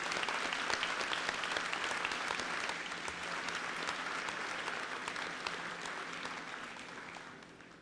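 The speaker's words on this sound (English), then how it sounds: "Let's give an applause to our recipients." A high school senior awards assembly audience claps for award recipients: a full, continuous wash of applause, moderately distant and soft, running steadily for several seconds and fading slightly toward the end.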